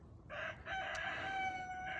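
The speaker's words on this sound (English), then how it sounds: "Not get distracted by the rooster" A rooster crows outdoors in a garden, one long, fairly loud cock-a-doodle-doo with a brief rise at the start and a drawn, wavering finish, heard alone against a quiet background.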